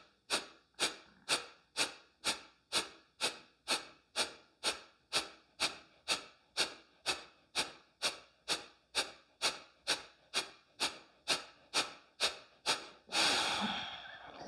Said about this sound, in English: Deep, fresh inhale. And exhale.